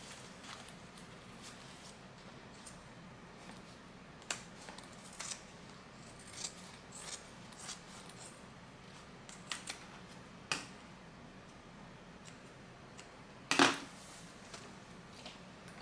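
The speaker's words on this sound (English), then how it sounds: "all I'm doing now is just trimming off that extra zipper and pocket" Scissors snip through leftover zipper tape and pocket fabric on a crossbody bag, scattered quiet cuts with small handling noises, then one louder, sharper snip near the end, close and alone.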